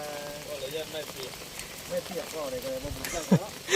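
Rain falling steadily outdoors in a continuous patter, with people talking over it at moderate distance.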